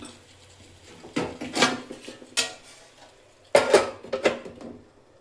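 A metal lid is set onto a pot of chicken curry with methi and masala, giving several close clattering clanks in two short clusters against a quiet background.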